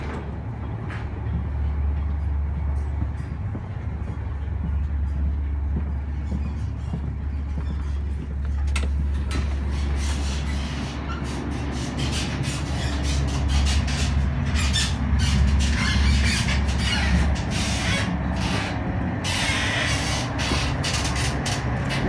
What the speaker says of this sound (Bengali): যেহেতু খুব দ্রুত গতিতে ট্রেন চলতেছে, এর জন্য মাঝে মাঝে ভিতরে শব্দ হচ্ছে।